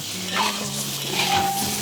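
Fermented chili paste with diced cured pork is stir-fried, giving a short, steady sizzle with light stirring scrapes and no talk.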